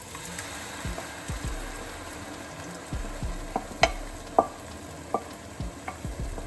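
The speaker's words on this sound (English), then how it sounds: "So mix thoroughly." Blended boiled tomatoes and peppers are stirred into softened onions in a pot for a Nigerian seafood stew: a low simmering sizzle punctuated by scattered scrapes and taps of the spoon against the pot, close and moderate.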